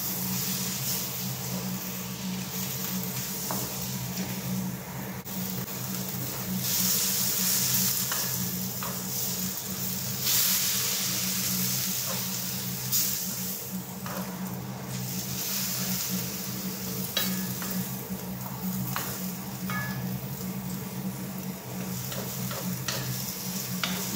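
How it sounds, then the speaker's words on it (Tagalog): Vegetables for pansit guisado sizzle and crackle steadily in a hot pan as they are stir-fried, a continuous close frying hiss with occasional stirring clicks and no voices. "Lutuin po muna natin maigi ang ating gulay."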